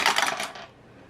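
Dice rattling and clattering as they are rolled during a budgeting savings game, a bright burst of rapid clicks for about half a second that quickly dies away, with no talking.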